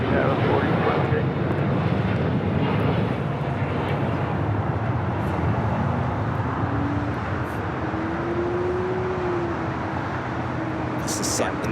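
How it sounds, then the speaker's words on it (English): A Singapore Airlines Boeing 777-300ER rolls down runway 24 left at LAX, its broad engine roar steady and moderately loud, with a rising and falling tone, while a voice talks over it. "Also have Singapore 777-300ER rolling down 24 left."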